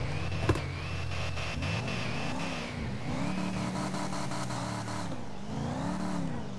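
A diesel truck in GTA 5 on a drag racing test pass, its engine droning and climbing through revs, dropping and rising again with each gear change, loud and continuous throughout.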